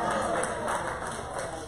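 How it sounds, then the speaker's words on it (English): Weak, polite applause from a small audience at a comedy or speaking event, a thin steady patter of scattered clapping that sounds half-hearted and fades slightly across the short stretch. "That was pity applause."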